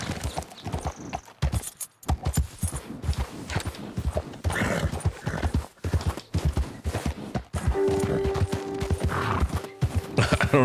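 Horse hooves clip-clop in a brisk, steady rhythm while riding in Red Dead Redemption 2, close and prominent, with a few breaks and a faint tonal hum late on.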